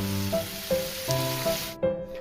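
Chicken for butter chicken sizzles steadily while frying in a pan, a close continuous hiss with a few soft stirring knocks, the sound cutting off abruptly near the end.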